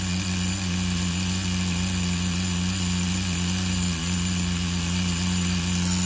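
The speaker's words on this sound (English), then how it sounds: "That thing running like a super duper stupid idle." A Tamiya TGS-R nitro RC car engine idles steadily nearby, a continuous buzzing drone with a low pulsing hum that holds unchanged throughout, with no voices.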